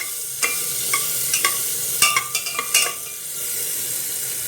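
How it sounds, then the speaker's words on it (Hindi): Chopped onion and garlic frying in butter in a pressure cooker, a steady sizzle under repeated scraping and clinking stirs of a spoon against the metal pot, close and alone. "मैं ऐड कर दूँगी कटे हुए ऑनियन और गार्लिक। इसको हम थोड़ा सा ही ऐसे भून लेंगे।"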